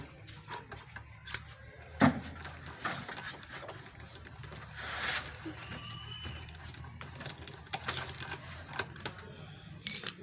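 Small two-stroke Tiger generator being serviced as its spark plug is worked loose with a plug spanner: scattered metallic clicks and ratchet-like ticks, close and fairly quiet, with a low steady hum beneath.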